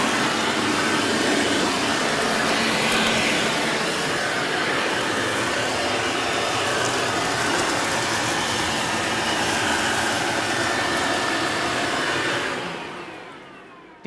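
A garden machine engine, rated just under 100 decibels, running loud and steady close by with a dense continuous roar that holds for about twelve seconds before cutting away.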